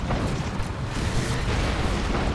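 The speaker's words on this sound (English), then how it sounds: "There's a D-cannon shot." An Eldar D-cannon shot explodes in Dawn of War 2, a Warhammer 40,000 strategy game, as a dense, roaring blast of broadband noise that stays loud and rumbling for the whole stretch, with no talking over it.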